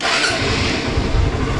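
A motorbike engine fires up after dark and settles into a steady, loud running rumble close by, with no talking over it.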